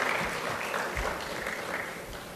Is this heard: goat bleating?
no